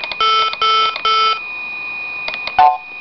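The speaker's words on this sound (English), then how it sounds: "Simple beep." The Macintosh Simple Beep alert on a 1995 Apple PowerBook 190: three short, bright electronic beeps in quick succession, then a quieter pair of blips and a brief higher chirp, clean and close with no voices.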